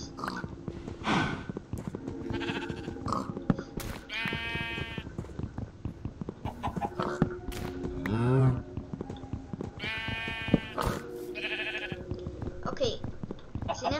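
Minecraft farm animals (cow, chicken and pig) call out in short repeated bleating and grunting cries scattered throughout, under almost constant excited talking by a player.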